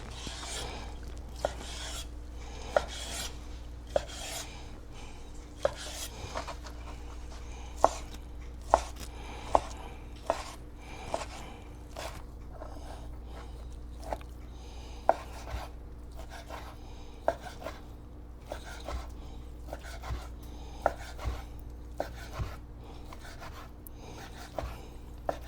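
A knife slices ham for quiche Lorraine on a board with sharp, fairly regular chopping knocks about once a second over a low steady hum, close by and without speech.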